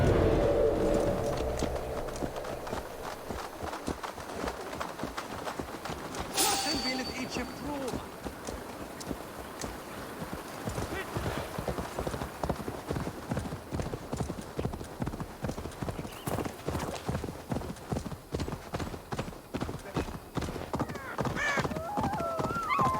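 A horse gallops in Assassin's Creed Valhalla, its quick rhythmic hoofbeats running steadily and loud for the whole stretch, with a brief burst of other game noise partway through.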